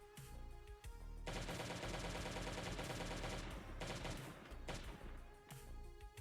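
Pistol gunfire in a video game, with repeated rapid shots building into a dense, loud burst of firing that continues for several seconds before trailing off into a few scattered final shots.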